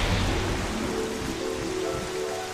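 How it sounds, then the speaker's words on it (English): Heavy rain pours in The Legend of Zelda: The Wind Waker as a dense, steady hiss with faint low rumbling underneath, fairly quiet and unbroken, with no voices. "It's pissing down with rain."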